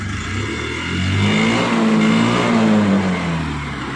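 A Hero Maestro Edge scooter with a low-pickup problem revved at full throttle, its engine whine climbing then easing back over about two seconds, steady and close with no voices.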